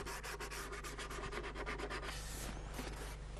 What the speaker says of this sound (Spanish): Llega el pulido final con telas de lija de diferentes gruesos de grano